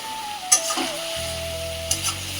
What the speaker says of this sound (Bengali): এবার ডিমের আলুটা দিয়ে দিই দিয়ে একবার কষিয়ে জল দিয়ে